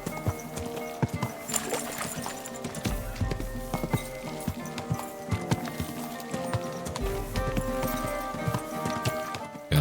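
Horse hooves in the medieval video game Kingdom Come Deliverance 2, a steady clip-clop of a horse walking along, with quieter game ambience underneath and a brief whinny-like sound.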